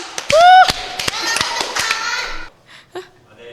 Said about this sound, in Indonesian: Jangan lupa tepuk tangannya guys buat Kanaura.